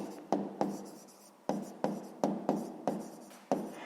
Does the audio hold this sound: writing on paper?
yes